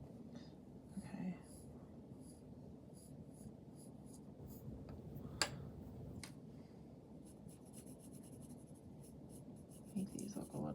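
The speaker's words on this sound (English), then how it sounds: "you can try to do this kind of with the side of the pencil" Pencil drawn sideways across paper while copying a Delacroix horse, soft scratchy strokes close up, quiet and intermittent with brief louder marks, no talk over them.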